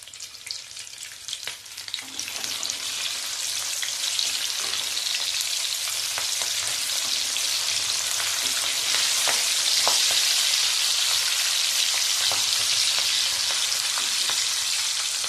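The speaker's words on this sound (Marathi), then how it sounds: "ही भजी पण तळून झाली आहे आणि मिरच्या पण तळून झाल्या आहेत" Onion bhaji fritters and slit green chillies deep frying in hot oil, giving a steady, dense sizzle with crackling pops that holds close and fairly loud throughout, with no talk.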